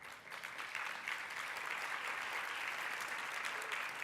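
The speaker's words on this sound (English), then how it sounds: "I'm very glad to see some men applauding too" An audience at a business conference applauds, a dense and steady wash of clapping that holds at an even level throughout, with no voices standing out.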